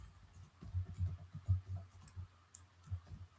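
Soft, quick clicking of keys on a computer keyboard as printf code is typed, an uneven patter of faint taps close by with no talking.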